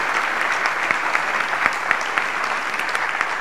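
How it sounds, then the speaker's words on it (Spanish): Sustained audience applause for priests at a Catholic marriage-holiness gathering in Buenos Aires, a steady even wash of many hands clapping throughout with no talking. "aprovechamos para darle un aplauso a los sacerdotes"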